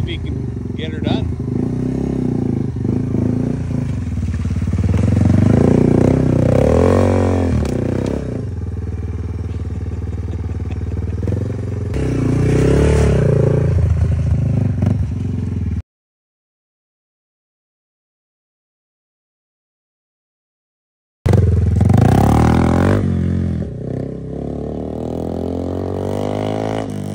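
A Yamaha TW200 motorcycle engine revs during a ride after a throttle tube fix, a loud continuous rumble that rises and falls with throttle and wind noise, cut by a stretch of silence before resuming.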